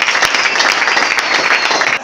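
A church congregation applauds loudly and continuously, with dense, close clapping that fills the whole stretch without a break.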